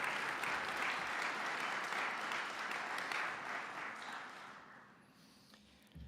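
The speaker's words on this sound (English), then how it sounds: "Let's give the band a giant round of applause." An audience at a Veterans Day ceremony applauds the band, a steady dense wash of clapping that holds for about four seconds, then thins and fades to near quiet at a moderate distance.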